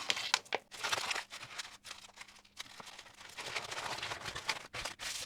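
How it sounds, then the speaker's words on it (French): Kraft paper crumpled and smoothed out by hand, giving bursts of crisp crinkling and rustling in uneven handfuls, close and fairly quiet with brief pauses and no talk. "je le froisse, je le défroisse. C'est du papier, il ne se déchire pas."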